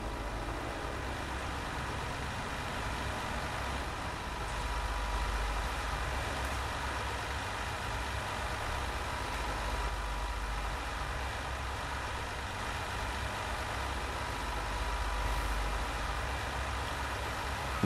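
A tractor engine idles steadily at a cotton harvest, a continuous low rumble that stays even throughout with no talk over it.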